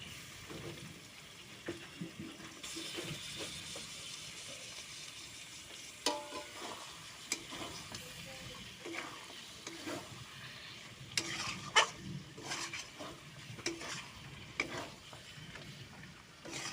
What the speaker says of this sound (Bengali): তো দেখো মশলা থেকে তেল ছেড়ে দিয়েছে। এবার আমি চিকেনগুলো দিয়ে দেব।